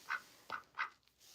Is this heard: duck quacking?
yes